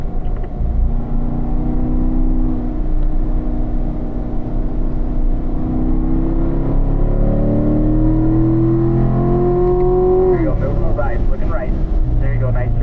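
A race car on a track accelerates with a loud engine note climbing steadily in pitch through the gears, heard from onboard with a voice talking over it.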